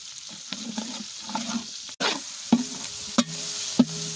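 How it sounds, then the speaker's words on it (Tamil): Green chilies sauté in hot oil for vegetable biryani, a continuous sizzle broken by sharp clicks and scrapes of stirring every half second or so, with no talking. "பச்சை மிளகாய் நல்லா வதங்கட்டும்"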